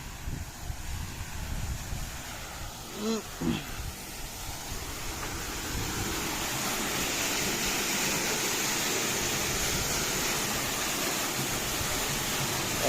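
Flowing water rushes steadily at a farm, a broad hiss that swells and stays constant. A brief voice is heard early on.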